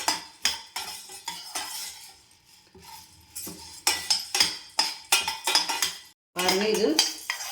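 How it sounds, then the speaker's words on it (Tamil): Curry leaves roasting in a dry pan for idli podi, with rhythmic scraping and clinking of a ladle against the metal, a series of sharp strokes with brief pauses and a faint crackle. "நீங்கள் வெறும் வடச்சட்டியில் போட்டு இப்படி வறுத்துக்கிட்டிங்கன்னா"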